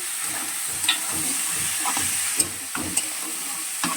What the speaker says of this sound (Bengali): এই যে এইভাবে কুমড়ো জারটাকে কষাতে থাকতে হবে